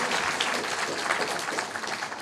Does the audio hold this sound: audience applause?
yes